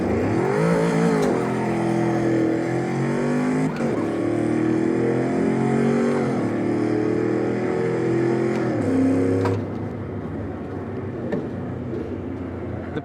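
A 2020 Shelby GT500 drives under automatic and paddle shifting, its engine rising steadily through several revs before dropping to a quieter, lower drone near the end.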